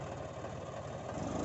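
A big 63 HP tractor engine runs just after starting, giving a steady, even low rumble and chug at moderate volume with no talking over it.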